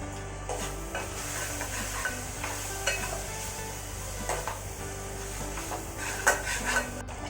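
Chili powder stirred into a frying wild mushroom curry, a soft sizzle under repeated spoon strokes and scrapes against the pan, fairly quiet and close, no talking.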